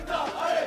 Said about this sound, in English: that trophy with the crowd all chanting